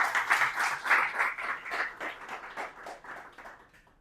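An audience at a talk breaks into a round of hand clapping, dense at first and then thinning and fading out over a few seconds.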